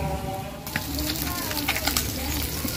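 Meat frying in a wok over a flame, a close steady sizzle and hiss that swells after a brief opening and carries on evenly.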